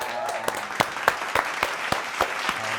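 Studio audience clapping on a talk show, a quick run of sharp claps over a steady hiss, fairly close, with a faint voice briefly underneath.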